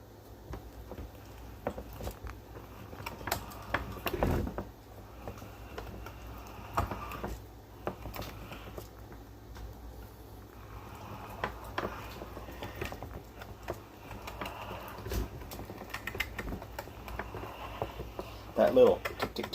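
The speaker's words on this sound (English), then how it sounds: "That little tick tick tick sound you hear, that's pieces of connective tissue getting cut." Meat grinder working through venison, giving faint irregular ticks and clicks as connective tissue is cut, low and intermittent over a quiet motor hum, with people talking softly now and then.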